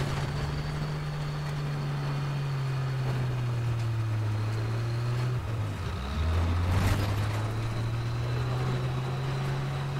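A cannon-armed half-track engine in a video game drones steadily and loudly, its low pitch dipping and then recovering midway as it runs close and continuous with no talk.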